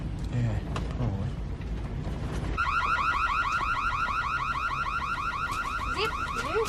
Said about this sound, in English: you probably set off Chris's alarm on your way out